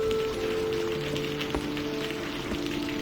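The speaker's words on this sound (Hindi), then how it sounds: "बारिश बहुत तेज है" Heavy storm rain pours down in a dense, continuous hiss that stays even and unbroken throughout. A faint low hum sits underneath.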